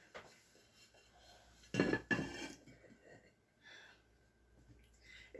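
Metal cake pan knocked and handled while a buttermilk pound cake is turned out in a home kitchen: a brief loud cluster of clanks and scrapes, then quieter rattles and soft movement noise.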